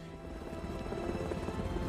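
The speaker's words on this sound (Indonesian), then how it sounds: "terdengar suara helikopter milik anggota Vogel yang mendekat dan mendarat" Helicopter approaching and landing in an action film scene, a dense, steady rotor and engine roar holding loud throughout, with busy mixed background sound.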